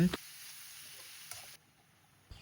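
Termite mushrooms stir-fried in a pan for a northern Thai home dish give a steady hiss of sizzling with faint scraping of stirring, close and continuous. The sizzle drops quieter partway through, and a brief clatter follows near the end.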